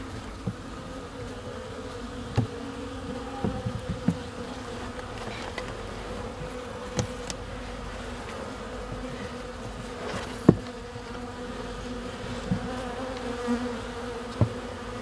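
Steady close buzzing of a few honeybees and their queen in a hive, a constant droning hum with occasional soft knocks and taps, no voices.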